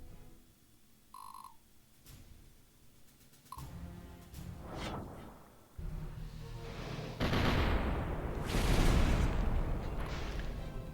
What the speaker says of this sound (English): So yeah, that's cannons attacking.